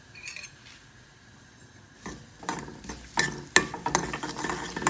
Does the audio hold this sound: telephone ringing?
no